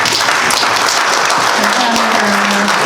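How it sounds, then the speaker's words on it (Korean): Steady applause from an audience at a presentation on AI animation production, dense clapping filling the whole stretch at an even level, with a faint sustained tone partway through. "세 분에게 박수 부탁드리겠습니다."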